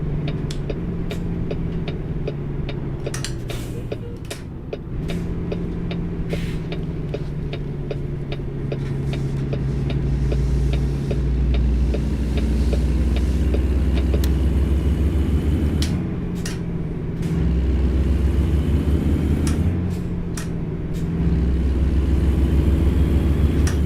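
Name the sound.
truck engine running in American Truck Simulator video game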